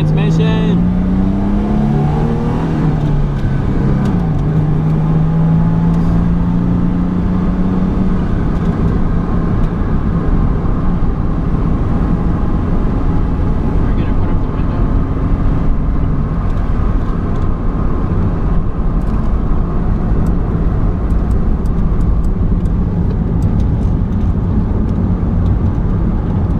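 A Ford Mustang with a 3.8 L V6 and manual transmission pulls away, its engine a loud, continuous close drone that rises briefly early on, then settles into a steady rumble.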